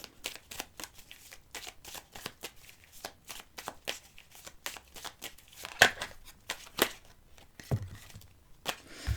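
Tarot cards are shuffled and dealt by hand, a close, quiet run of rapid riffling flicks and papery slaps in irregular bursts, with a few sharper card snaps and no talking.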